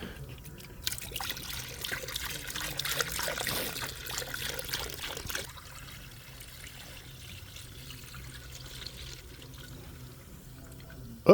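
Coolant poured into the cooling system of an overheating car, a faint trickling pour that grows fuller, then stops midway and leaves a quiet, low hiss.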